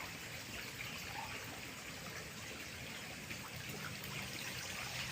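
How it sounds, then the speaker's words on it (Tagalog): Mountain stream water flows down from the slopes in a continuous, even rushing trickle, soft and steady with no voices. "daloy ng tubig galing sa taas ng bundok yun"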